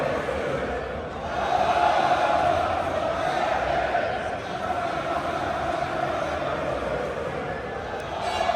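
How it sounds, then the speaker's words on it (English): A large crowd at a street march in central London, cheering and shouting in a sustained, dense roar that swells early and stays loud and busy to the end. "Crowd are going absolutely crazy now."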